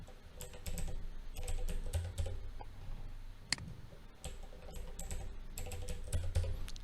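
A password is typed on a computer keyboard in two close, rapid bursts of clicky keystrokes separated by a short pause, with one sharper key press in the middle and no voices.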